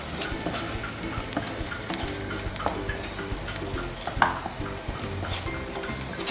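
Chicken masala fries in oil in a pan, and salt is stirred through it, producing a steady close sizzle broken by scraping stirs and an occasional sharp clink.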